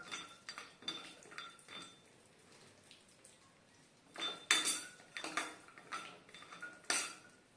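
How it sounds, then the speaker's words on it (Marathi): A utensil scrapes and clinks against a pan as cashews frying in ghee over a medium flame are stirred, giving irregular metallic taps and scrapes that come in clusters, louder toward the end, with no voices. "आता हे काजू व्यवस्थित आपल्याला तुपामध्ये फ्राय करून घ्यायचे"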